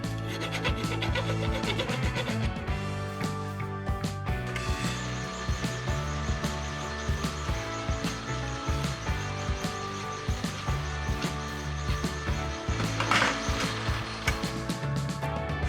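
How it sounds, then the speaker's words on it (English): A hand file rasps over the end of a homemade Harley transmission seal puller, flattening burrs off the metal in steady back-and-forth strokes, close and continuous, with no talking. "we're just going to clean up the other end of this while we're at it, just to flatten the burrs off."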